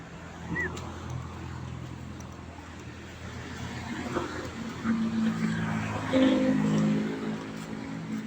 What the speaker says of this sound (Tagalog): Maraming mga sasakyan.